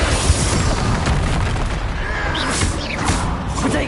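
A Bombarda spell blasts in Hogwarts Legacy, part of a dense barrage of booming explosions and rumbling impacts that continue without pause throughout.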